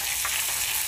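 Fish frying in cooking oil outdoors, a loud, steady hiss and crackle of sizzling fat filling the short moment.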